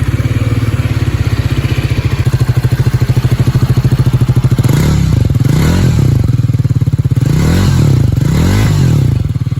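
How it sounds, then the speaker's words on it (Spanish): A Triumph Speed 400 motorcycle engine with a 12:1 compression ratio runs close and loud, a steady throbbing idle that then swells through several revs and drops back, with no talking. "Ahora detengámonos un momento para apreciar el sonido característico de su motor."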